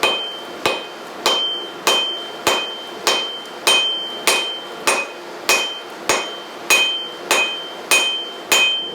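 A hammer forges a four-sided taper in 4140 tool steel on the horn of a 66-pound VEVOR anvil, striking about fifteen loud, evenly spaced ringing blows up close.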